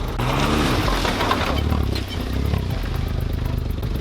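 A smart car engine runs steadily while the small car shuffles into a tight parking space, a continuous low rumble with faint clatter throughout.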